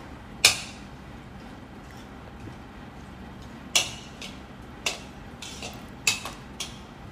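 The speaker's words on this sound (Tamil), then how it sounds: "இப்போது போட்ட காய்கறியெல்லாம் நல்லா கலந்து விட்டுக்கிறேன்." Chopped vegetables for a chickpea salad being stirred together in a bowl: a few sharp, sparse clinks of a utensil against the dish over a quiet background, with no talking.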